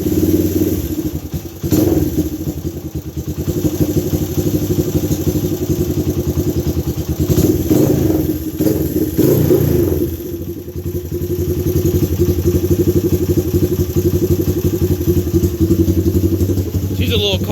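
Honda ATC 200X three-wheeler with a Curtis Spark exhaust pipe and an upgraded cam, starting up and then idling in a loud, close, steady putter with a few brief blips in engine speed.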